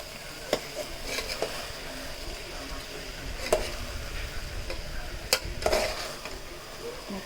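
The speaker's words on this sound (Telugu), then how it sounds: "సో దీన్ని మంచిగా మెల్లగా మిక్స్ చేసుకోండి" Cooked rice for kimma biryani being gently folded and mixed in a pot, a soft continuous scraping and stirring with a few light clicks of the utensil against the vessel.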